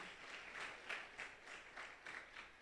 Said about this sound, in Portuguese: Palmas para Samara.